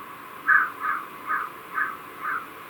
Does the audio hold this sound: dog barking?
no